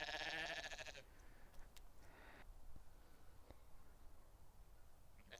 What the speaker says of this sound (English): There are some very tiny little lambs.